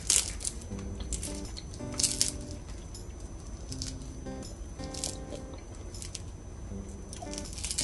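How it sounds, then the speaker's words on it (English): Fried pompano fish, cooked without oil or an air fryer, is bitten and chewed with crisp crunches and squishes repeating close to the mic, quiet over a faint steady background hum. "So as you can hear, the fish is super crunchy"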